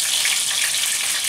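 Sausage browning in a pan for marinara sauce, a loud continuous sizzle and crackle of frying fat, close up and unbroken, with no talking.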